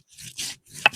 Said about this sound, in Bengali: এবার বেটে নেবো ধইনি জিরে এলাইচির ফল